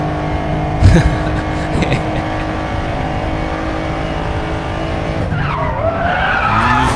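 Tires of a Porsche 911 Carrera S Cabriolet (992, 2019) skid under braking in the Racing Master game. A loud sustained engine drone runs throughout, with a squealing, wavering tire screech rising near the end.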